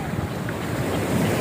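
Surf washes ashore at Cikembang beach under strong wind buffeting the microphone, a loud steady roar without distinct breaks.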